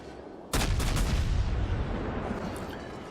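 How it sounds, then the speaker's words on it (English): A heavy naval broadside booms in World of Warships from a destroyer, a single deep blast followed by a long rumbling roar that slowly fades, loud and close with no talk. "I've actually got about 4 broadsides off there before the first one lands, maybe even 5"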